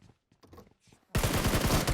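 A rapid automatic-weapon burst in the shooter game BGMI erupts loud and close after a second of faint game sounds, with shots coming in a fast, even rhythm.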